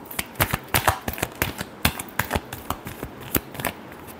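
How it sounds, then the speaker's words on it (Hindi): A tarot deck being shuffled close up, producing a quick series of crisp riffling snaps and flutters in uneven bursts, about a dozen sharp card slaps over a few seconds. "Last shuffle."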